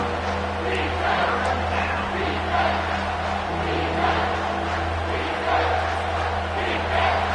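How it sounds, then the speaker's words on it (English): Stadium crowd at a TCU at Utah college football game, roaring loudly and steadily on third down as fans try to help the defense, a dense continuous cheer with swells throughout. "this crowd will blow out a vocal cord to help this defense."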